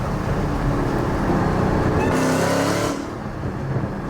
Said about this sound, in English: It wouldn't be a Judah's Garage video if I don't do a pull in the Hellcat.